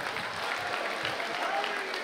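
Steady applause from a crowd, a dense wash of clapping that holds at an even level throughout.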